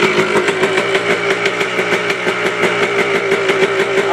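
A Yamaha ATV engine idles steadily with a warm, smoky carburetor, giving a loud, close, even throbbing pulse that holds constant for a few seconds without speech.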